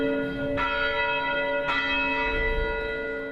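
A newly restored church bell, reinstalled in a steeple after a tornado in Portland, rings out with rich sustained overtones; two clear strikes sound about a second apart, each blooming into a long humming resonance.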